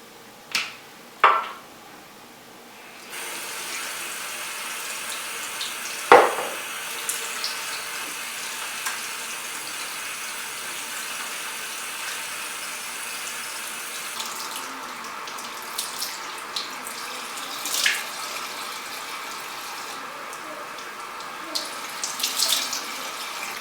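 A bathroom tap runs steadily to rinse off face cleanser, a constant close hiss of flowing water after a few brief knocks at the start, with small splashes near the end.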